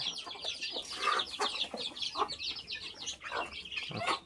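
Guinea fowl call nearby in repeated harsh, chattering bursts mixed with clucks and chirps, steady and fairly loud with no talk.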